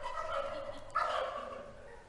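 Turkeys raised in Indiana gobble at a presidential turkey pardon event, a single nearby burst of warbling calls rising sharply about halfway through over steady background murmur.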